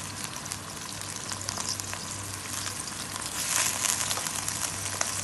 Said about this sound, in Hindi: तो अब मैंने इसके अंदर कीमा डाली, तो अब मैं इसे रोस्ट करूंगी।